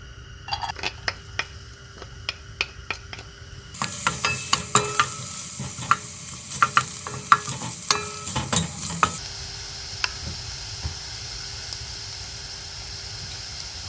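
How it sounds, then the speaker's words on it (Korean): Garlic fries in a spoonful of cooking oil in a pan, giving a continuous sizzle that grows louder and hissier midway, with repeated clicks and scrapes from stirring. "식용유 한 스푼 넣을게요. 먼저 마늘 넣을게요."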